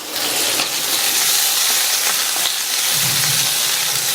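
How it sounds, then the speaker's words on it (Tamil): Lentils (dal) roasting in a pan with curry leaves, dried chili, onion and garlic: a steady, dense sizzle and crackle, close and fairly loud, with a few faint stirring scrapes and no voices. "இந்த பருப்பெல்லாம் நல்லா பொன்னிறமாக வர வரையும் வறுத்துக்கங்க"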